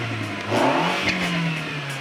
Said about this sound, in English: we're gonna show you how to take your F-Series Mini Cooper from sounding like this